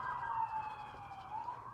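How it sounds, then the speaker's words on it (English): Ambulance sirens pass outdoors near a barbecue, a steady wailing tone held at a distance, faint and continuous under low background noise. "Sorry about the ambulances going by."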